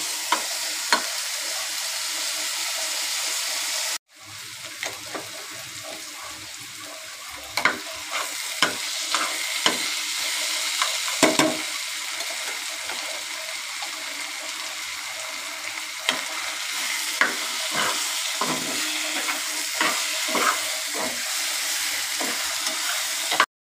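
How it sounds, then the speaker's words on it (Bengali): Potatoes frying for a bele fish curry, a continuous close sizzle that cuts out briefly and then resumes, dotted with clicks and scrapes of stirring, with no one speaking. "কাঁচা কাঁচা আলুটা দিব না, আলুটাকে ভেজে তারপর বেলে মাছে দিব।"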